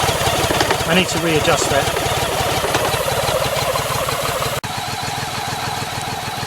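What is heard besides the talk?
BMW K75 motorcycle engine struggling as clutch let out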